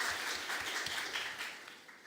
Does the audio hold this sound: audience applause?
yes